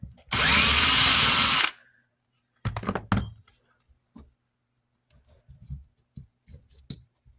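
A cordless power drill whines loudly for about a second while backing screws out of a Lasko dual pivot tower fan, followed by close clattering, clicks and thunks of loose plastic parts and screws being handled.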